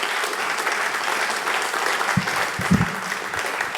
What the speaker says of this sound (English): make some more noise for Derrion